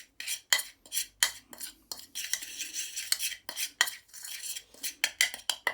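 A spoon scrapes and clinks against a bowl while spices are mixed for cevapi sausage meat, a steady rhythm of close metallic taps and stirring with no talk.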